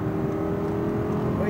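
An Audi R8 V10 RWD at Speed Vegas, a steady droning engine note from inside the car on track, continuous and fairly loud.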